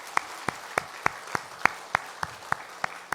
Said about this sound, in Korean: 가시는 길에 정말 하나님의 은총이 있도록 박수로 우리 축복하겠습니다.